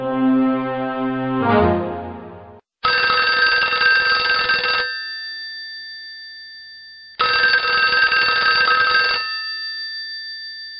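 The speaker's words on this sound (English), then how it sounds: "I awoke to my phone ringing off the hook." A telephone rings in a radio drama, two long electric bursts separated by a pause, each decaying slowly, following a brief musical sting at the start.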